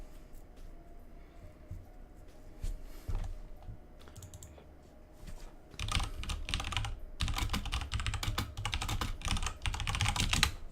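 Keys clatter on a computer keyboard close to the microphone during a Melee tournament stream, sparse taps at first and then dense, fast bursts of typing with no talk.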